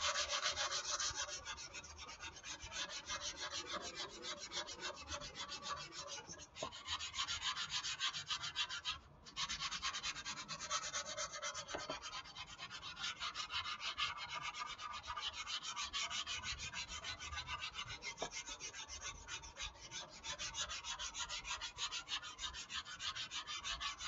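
Sandpaper rubs over a foam surfboard being repaired, a continuous close scratchy rasp in long even back-and-forth strokes with a brief pause midway.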